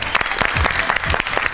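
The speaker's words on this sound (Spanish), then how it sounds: "recibámoslo con un fuerte aplauso a Alberto Echegoyen." Audience applause for a guest introduced on stage at a science talk show, a dense burst of many hands clapping close by, steady and loud across the short span.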